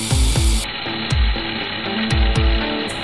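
A chainsaw bayonet power tool cutting wood, giving repeated sharp, rhythmic bursts about twice a second. It is close and loud, with a steady buzzing bed underneath and no talk.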